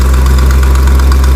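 A carbureted engine with an exhaust leak idles at about 750 rpm just after its idle speed is set, giving a steady, loud, even rumble with a faint knocking pulse and no voices.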